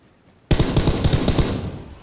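Sudden burst of rapid automatic gunfire in the military shooter game Squad, a loud, close string of evenly spaced shots starting abruptly after a moment of near-silence and continuing to the end.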